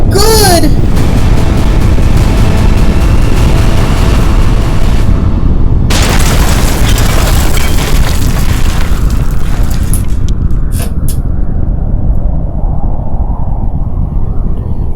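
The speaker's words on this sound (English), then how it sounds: "It was the worst explosion ever." An explosion in a toy train story scene, a loud continuous roaring blast filling the sound for several seconds, briefly cut off, then rumbling again before fading with crackling debris.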